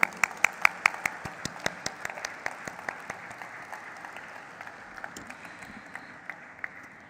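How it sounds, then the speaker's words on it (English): A company listing ceremony audience applauds with sharp, individually distinct claps over a softer crowd wash, the clapping thinning and fading toward the end. "Can you give a bigger round of applause for him"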